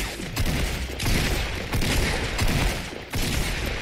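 Sustained gunfire during a Fortnite fight, loud continuous volleys of shots close by with a brief break near the end, and no talking heard over them.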